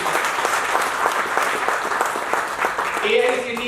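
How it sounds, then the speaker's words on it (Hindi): A large audience bursts into sustained, dense applause at a public event in India, steady and loud throughout, with a voice speaking over the clapping near the end. "एक बार उनके लिए जोरदार तालियां होनी चाहिए।"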